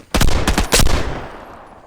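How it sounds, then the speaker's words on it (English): Bursts of slow-firing submachine gun shots ring out in the Vigor video game, a few sharp cracks in quick clusters, fairly near and loud, followed by a fading echo tail. "There's a lot of gunfire actually occurring, and it sounds like a slow-paced SMG."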